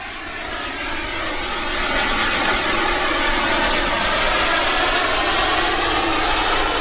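Freewing Zeus 45NT RC turbine sport jet in flight, a steady broadband roar with a high whine that swells slightly and holds loud and continuous throughout, no voices.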